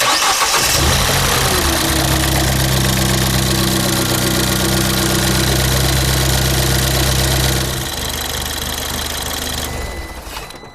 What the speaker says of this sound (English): I just want to make sure the engine fires up okay.